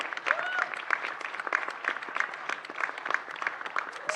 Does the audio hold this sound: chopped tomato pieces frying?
no